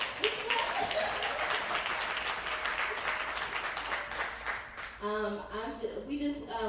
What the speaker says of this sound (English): Can we just give them a hand clap one more time?